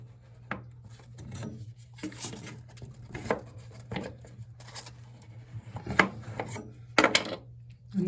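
Emery cloth rubbed against a copper water pipe being cleaned for a SharkBite shutoff valve, in short scratchy strokes with irregular gaps, some louder rasps near the end, over a low steady hum.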